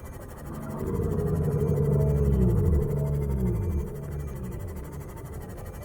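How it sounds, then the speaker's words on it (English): A low, moaning sea creature call from the video game Subnautica, with drawn-out, sliding tones rising and falling over a deep underwater-like hum, eerie and fairly loud. "there'd be like a cool sea creature pet or something, but then they make this sound"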